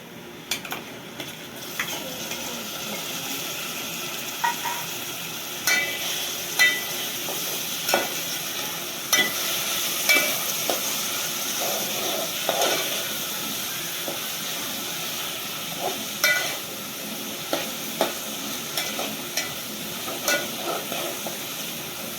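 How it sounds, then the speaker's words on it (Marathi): Onion and tomato fry and get stirred in a pan for chicken sukka, with a steady sizzle broken by frequent scraping stirs of the spoon. The sound stays close and fairly even throughout. "कांद्याला थोडा ब्राऊन होऊन देऊया. कांदा आपला थोडा ब्राऊन झाला, त्याच्यामध्ये टमाटर टाकूया."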